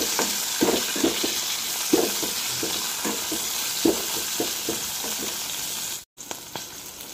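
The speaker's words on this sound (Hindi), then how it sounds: "तेल दे किछि जीरा दबा, रखिथिबा कैप्सिकम को पकेबा, एहाकु भल भाबरे भाजी नबा" Capsicum frying in hot oil with cumin seeds, giving a steady sizzle with stirring scrapes from about every second, close and moderately loud, with a brief dropout near the end.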